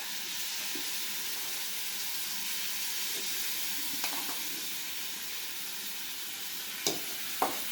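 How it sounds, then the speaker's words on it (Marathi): Tiny prawns (karandi) dropped into a pan with potato for a Goan Saraswat bhaji, giving a steady soft sizzle throughout with a few faint clinks and stirring taps near the end. "आता मी ही करंदी याच्यात टाकणार आहे."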